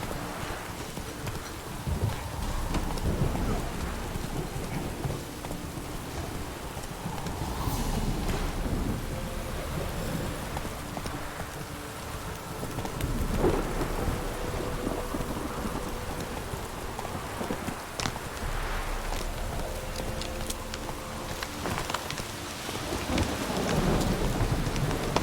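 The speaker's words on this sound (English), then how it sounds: "This downpour's a bastard, it is." Heavy rain pours steadily in The Witcher 3 video game, with low rolling rumbles of thunder swelling and fading across the scene.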